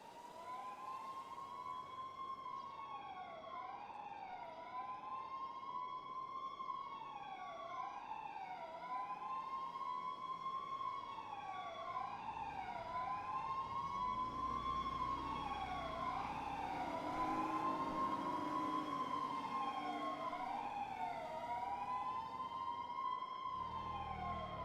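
Several emergency vehicle sirens wail and yelp in a video game, overlapping pitch sweeps cycling continuously and loudly for the whole stretch, with a low rumble of road traffic beneath.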